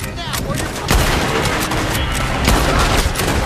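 Heavy gunfire rages through a Red Dead Redemption 2 shootout, with dense overlapping shots and loud bursts that stay constant throughout, with some voices mixed in.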